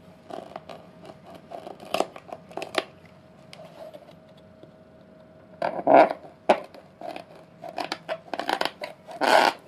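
A RAIDOPS Aquilo knife with a titanium and G10 frame lock cutting off a cord node, giving scattered crisp snips and scrapes that grow louder and denser toward the end.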